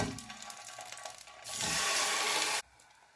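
Chicken drumsticks tipped into hot oil in a frying pan set off a loud, sudden burst of sizzling that holds steady for about a second and then cuts off, after softer kitchen rustling.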